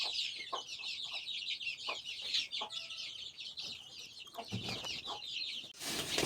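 Kurdish hens in a village yard clucking and chattering in a continuous low murmur, with occasional sharper clucks and a burst of noise at the end, no voices.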